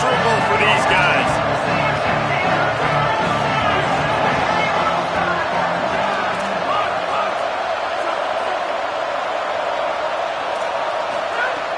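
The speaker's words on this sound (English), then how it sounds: "This crowd going to try to make life miserable for these guys." A college football stadium crowd at an Oregon versus LSU game roars in a loud, continuous wash of cheering and babble, with thumps and a close voice talking over it.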